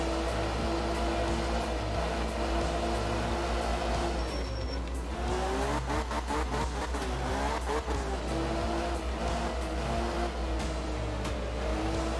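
Rally car in Art of Rally pushed under full throttle, engine revving hard and continuously with rising and falling pitch through shifts, some tire noise, close and loud.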